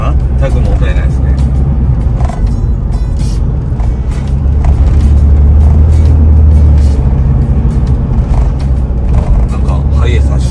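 A Toyota HiAce van with newly installed air suspension on a road test, its steady low engine and road rumble continuous and loud from inside the cabin, with occasional faint bumps.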